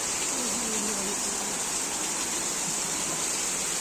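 Heavy rain pouring during a Mandovi Express train journey from Dadar to Chiplun, a dense continuous roar of water with no breaks, loud and steady throughout.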